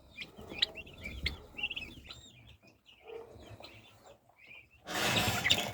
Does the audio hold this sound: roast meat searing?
no